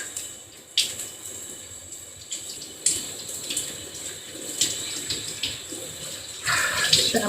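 Water running steadily from a tap while dyed hair locs are rinsed, a continuous close splashing hiss with brief louder splashes and shifts in flow throughout.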